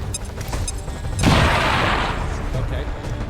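A frag grenade detonates in the XCOM 2 strategy game, a sudden loud boom with a long noisy crash and debris wash after it, over faint background game sound.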